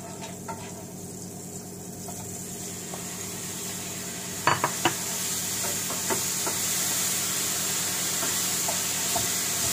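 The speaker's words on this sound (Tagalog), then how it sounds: "Ipa-fry natin yung banana." Banana slices fry in a pan for a simple morning meal, a steady sizzle with a few sharp clinks of a utensil against the pan in the middle, close and moderately quiet.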